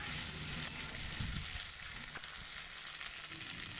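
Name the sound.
peeled garlic frying with bay leaf and cumin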